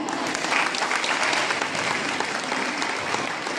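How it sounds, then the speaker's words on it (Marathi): A crowd at a Women's Day medical foundation event claps steadily and warmly during the cake cutting, a dense continuous applause heard close and fairly loud throughout. "महिला दिनाचा केक कापला जातोय, टाळ्या वाजवत जोरदार"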